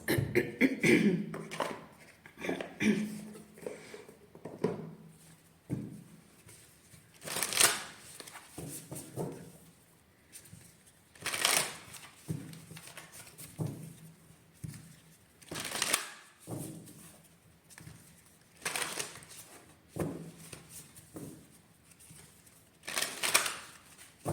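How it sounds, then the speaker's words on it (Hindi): Tarot cards being shuffled for a reading, with bursts of riffling and snapping card sounds that come in repeated waves separated by quieter pauses, close up and with no talking. "थोड़ा सा हम एडवाइस निकाल के देखते हैं आपके लिए कार्ड्स"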